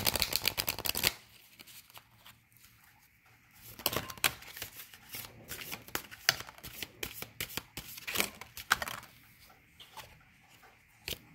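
Playing cards being shuffled close by for a tarot-style reading, with bursts of rapid riffling and fluttering separated by quieter handling pauses, no talking.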